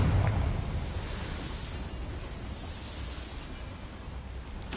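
A Confringo spell blast in a Harry Potter video game, a loud burst at the start that trails into a long rumbling decay with crackling debris.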